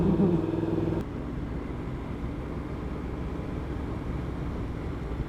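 Motorbikes on a scenic Scottish road, heard as a steady low engine rumble and road noise that continues without a break, louder at first and then holding a constant level.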